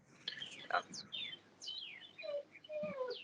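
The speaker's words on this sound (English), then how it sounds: "There's a bunch of birds chirping somewhere." Several small birds chirp outdoors in quick, thin descending calls, scattered and fairly distant, over a quiet background with a faint murmur of voice.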